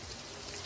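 Heavy rain pouring down outdoors as a dense, steady hiss without breaks, loud and close throughout the brief moment.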